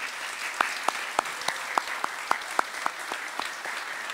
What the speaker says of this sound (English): please join me in giving a resounding round of applause for our distinguished honorees this evening